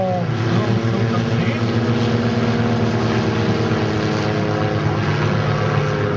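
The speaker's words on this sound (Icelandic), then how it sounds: "hérna koma yfir nokkra flugvélar frá" Several propeller airplanes fly over at an air show in Iceland, a steady loud engine drone with layered low harmonic tones throughout, while a voice speaks under it.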